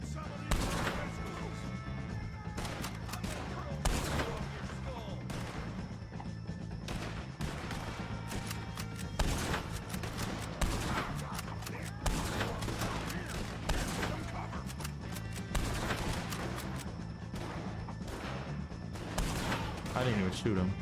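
Red Dead Redemption 2 gunfight with dense, continuous rapid shots and booming fire, loud and close, layered over game music and occasional talk.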